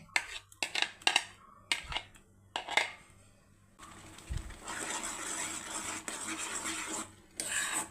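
Homemade papaya jam mixture, made from red lady papaya, clatters against a pan on the stove and is then poured and stirred in a steady, close, continuous wash of scraping.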